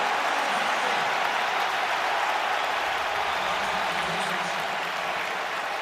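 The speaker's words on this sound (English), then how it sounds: "and the crowd loves it." A stadium crowd at a Detroit Lions football game against the Chiefs roars in a broad, steady wash of cheering and applause that holds throughout at moderate distance, with a voice faintly audible beneath it.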